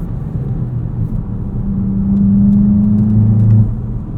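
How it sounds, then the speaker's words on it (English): A 2022 Volkswagen Jetta GLI with a 6-speed manual, in sport mode, hums at idle, then rises into a louder, steady rev, held briefly before easing off; no voices. "our engine sound gets significantly louder"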